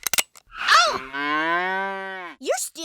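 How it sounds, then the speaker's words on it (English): A cartoon cow gives one long, loud, drawn-out moo that bends in pitch. Short clicks and bumps come before it, and a brief bleat-like sound follows. "Sheriff Winkles, Deputy Gabby, bandits are stealing my cows."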